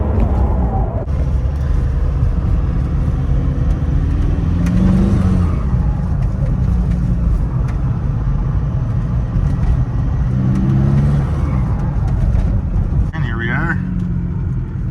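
A Volkswagen MK4 Jetta TDI drives along a bumpy road, a loud, steady low engine and road rumble throughout with faint rattles, while a voice talks over it.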